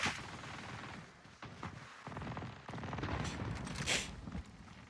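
Gunfire in the video game Warzone comes as scattered bursts of shots and distant booms, fairly faint and uneven, with a louder burst near the end.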